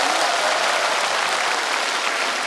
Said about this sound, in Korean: 여러분의 박수가 있으면